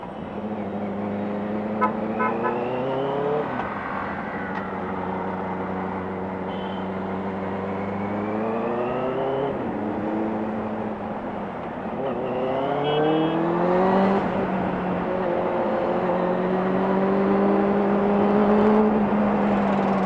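A 2018 Benelli 600i ABS motorcycle on the road, its engine revving high through several gears. Each climbing whine drops at a shift and then rises again, close and loud with a steady wind roar underneath.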